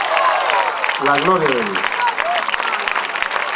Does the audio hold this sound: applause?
yes